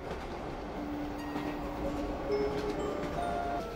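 A train rides along rails in a psychological thriller film, giving a steady, close rolling rumble with light clacking and faint tonal squeals throughout.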